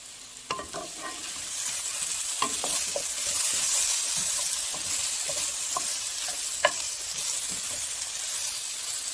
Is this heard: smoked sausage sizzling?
yes